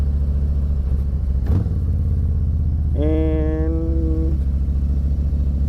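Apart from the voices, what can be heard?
2024 Harley-Davidson Softail Standard motorcycle engine during U-turn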